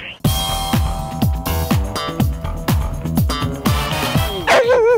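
A dog barks repeatedly in a steady run of sharp, close yaps, roughly two per second, with a whimpering whine near the end, outdoors at a snowy winter festival in Alpe d'Huez.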